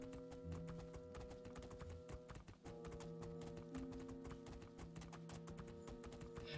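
Horse hooves clip-clop in a steady galloping rhythm while riding in the fantasy video game Two Worlds II, mixed with game music and ambience, with no talk over it.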